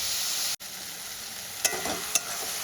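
Pav bhaji masala fries in a pan with a steady, bright sizzle while being stirred, broken by a momentary gap and a couple of sharp scraping clicks of the utensil.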